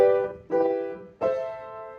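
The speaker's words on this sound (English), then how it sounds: "But this is the Royal Road progression, typically seen in Japanese style music." Royal Road chord progression played on a sustained instrument, three chords struck in turn, each decaying before the next, clear and alone.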